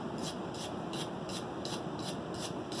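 Regular rhythmic brush strokes scrub across a freshly forged steel dog's head hammer, about eight raspy passes in quick succession, close and alone.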